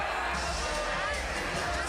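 Arena crowd noise at a Georgia Tech versus Georgia college ice hockey game, a steady continuous roar of spectators filling the rink for the whole stretch, loud and diffuse with no single voice standing out.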